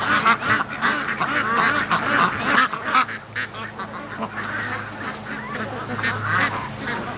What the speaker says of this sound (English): We got one little duck, looks like she's lost on her path.